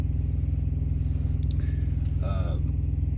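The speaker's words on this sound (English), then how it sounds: "Of course, the reefer starts right when I start making a video." Trailer refrigeration unit on a truck starting up, a loud, steady low diesel rumble with a rhythmic throb that dominates throughout, while a voice talks briefly over it.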